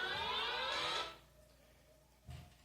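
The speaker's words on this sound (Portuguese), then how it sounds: "O despertador, toda vez ele desperta 10 horas." An alarm clock rings loudly in a bright, rising electronic tone for about a second, then cuts off, leaving quiet room noise and a soft thump near the end.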